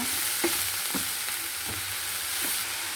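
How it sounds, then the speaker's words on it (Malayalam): Sessile joyweed greens stirred in a frying pan, a soft steady sizzle with a few light scraping strokes at regular intervals, close and alone. "നമുക്ക് തുറന്നിട്ടൊന്ന് ഇളക്കി കൊടുക്കാം"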